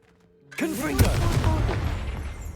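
A Confringo fire blast spell goes off in Hogwarts Legacy: one sudden loud boom that opens into a sustained crackling, rumbling roar, with a brief vocal cue just before the blast.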